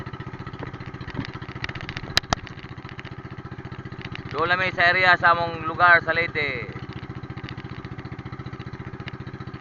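A small boat engine drones steadily throughout while someone talks over it midway.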